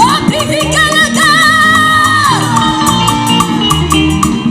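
A large congregation at a church crusade ululates and shouts together, with high wavering trills riding over a loud, dense crowd roar and a thumping musical backing.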